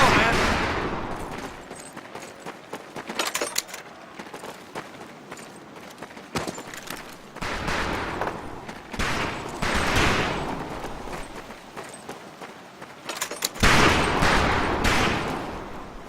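Rifles crack at a shooting range in Medal of Honor Pacific Assault, a 2004 video game. The shots come in irregular bursts and scattered single reports, with ambient game noise between them.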